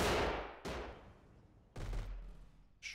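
Weapon fire crackles in a mech combat video game: three sharp bursts, each a loud onset that decays over about a second, spaced unevenly and heard alone without talk.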